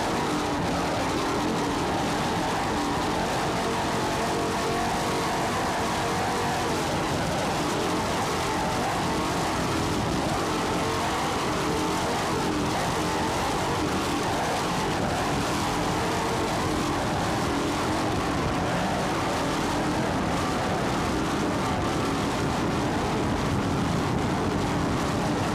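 Racing powerboats with Mercury engines roar at the 1994 South Padre powerboat grand prix, a loud, steady, unbroken engine drone that holds for the whole stretch with no talk.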